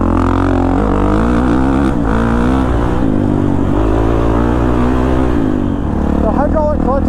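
A Kawasaki KX450 dirt bike engine drones steadily and loudly throughout while being ridden, its pitch wavering as the throttle shifts, with a brief rising rev near the end.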